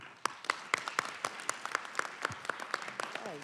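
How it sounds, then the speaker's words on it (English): Scattered applause for youth commissioners at a Fulton County Board of Commissioners meeting, with a small number of distinct, fairly close hand claps in a loose, uneven rhythm. "I would like to take this time to extend a round of applause to the youth commissioners"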